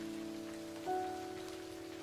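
Steady rain falls on a roofless wayside shrine and shade tree, a soft continuous hiss with a faint tonal hum and a brief swell near the middle; no voices.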